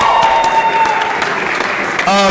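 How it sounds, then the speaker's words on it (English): Applause at a college athletics banquet for student athletes, a loud, dense wash of clapping filling the room, with a voice or tone breaking in briefly near the end. "round of applause"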